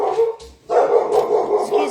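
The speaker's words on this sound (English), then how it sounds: "Excuse my dog, I apologize." A pet dog barks repeatedly indoors, likely at a mailman, with loud, close, steady barks that continue after a brief pause.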